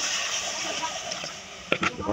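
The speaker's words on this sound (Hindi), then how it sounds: "इसमें और पानी डाल देंगे थोड़ा सा," Water poured into semolina halwa in a hot pan, a hissing splashy rush that ends in a few sharp spatters and sputters.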